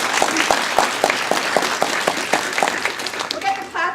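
Audience applause welcoming a speaker at an event on women's activism and reproductive rights, with broadband clapping and a steady train of sharp individual claps, then dying down near the end as a voice begins.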